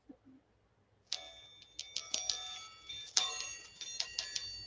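Small Chinese chime balls, brand new and still wrapped, ring with bright metallic tones, a cluster of soft chimes and shimmering rings repeating close by in a quiet room.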